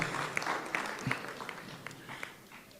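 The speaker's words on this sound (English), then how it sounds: "Let's welcome him with a round of applause" Guests at a cybersecurity tech hackathon clap to welcome a speaker, a modest scattering of hands with distinct individual claps that thins out toward the end, a voice briefly audible early on.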